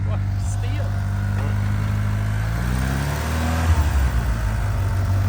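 A Mitsubishi Eclipse car engine running steadily at idle, a loud low hum with a slight shift in pitch partway through, with people talking nearby.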